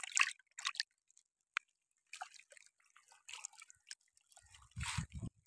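A small fish is released back into the water on a Mangla Dam fishing trip: a few soft drips and splashes with brief wet handling noises, close and quiet, ending in a louder splash.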